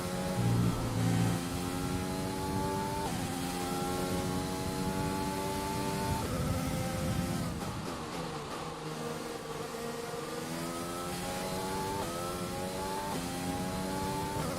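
F1 cars in F1 2020 scream along the track, engines climbing through gears in repeated rising whines with brief shift dips, loud and close, with no talk.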